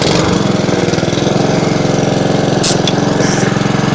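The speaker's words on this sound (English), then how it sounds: "This is how you start this mower. Put it on half throttle. And pull it." Honda HRR216 self-propelled walk-behind mower with a Honda OHV GCV engine, started at half throttle, runs loud and steady, its rapid regular engine pulse continuous and close throughout.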